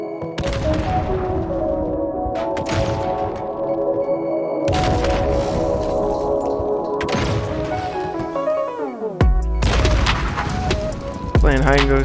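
In Call of Duty Modern Warfare multiplayer, a thrown grenade goes off with loud booming blasts amid dense gunfire and game effects, the explosions crashing sharply in a busy, continuous mix.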